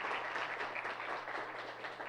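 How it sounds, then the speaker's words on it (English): Applause for staff and students at a college awards ceremony, a steady, fairly quiet wash of many hands clapping with a low hum underneath. "Give a round of applause for the staff, the students, everybody who came here today."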